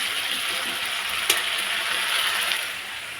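Ginger, garlic, onion and tomato paste sizzles steadily in a hot pan, a dense continuous hiss with a brief louder spit partway through and no voices.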